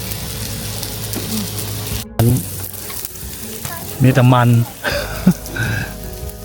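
Pork sizzles steadily on a hot Thai grill pan throughout, a constant close crackle while people chat over it.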